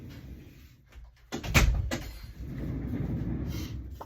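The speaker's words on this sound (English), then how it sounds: "One sec, I'm going to close my door." A door being closed indoors at a crafting desk, with a solid thud and brief rattle in the middle followed by low room noise.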